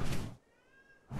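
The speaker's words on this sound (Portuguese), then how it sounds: "Ô, gato." A cat in the video game ARK: Scorched Earth gives a single short, thin meow, framed by bursts of louder rushing game noise just before and after.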